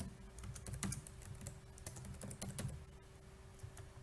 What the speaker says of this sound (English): Type in the email code here.